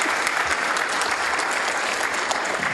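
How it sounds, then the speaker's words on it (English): An audience at the Hayward Youth Achievement Hall of Fame Awards applauds a singer with steady, loud, sustained clapping from a full crowd, filling the whole stretch without a break. "I want to give her a round of applause again just for that"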